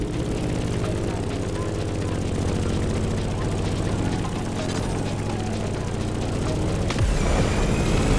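In the video game The Crew Motorfest, a propeller plane's engine drones loud and steady, a dense rumbling hum that holds throughout with a brief surge near the end, while a voice talks over it.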